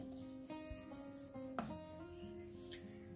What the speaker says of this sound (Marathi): थोडंसं आपल्याला याला तेल लावून घ्यायचं आहे आणि छान असं लाटून घ्यायचं आहे